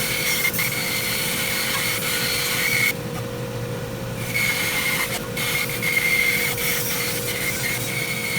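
Steady rasping of a saw cutting contours in the bottom of a wooden cabinet frame, continuous strokes with a brief pause midway, close and fairly loud over a constant low hum.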